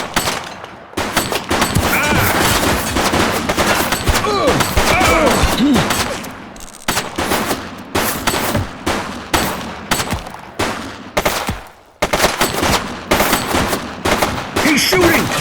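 Rapid bursts of gunfire crackle through a police shootout in the video game The Precinct, loud and close, with sustained automatic volleys broken by brief pauses and a few shouted voices.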